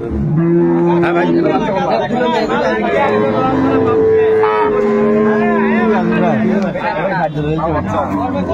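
Cattle, including dairy cows, calves and a young bull, low and moo repeatedly at a crowded livestock market in Ambari, Dinajpur, under constant chatter and bargaining voices, loud and close throughout.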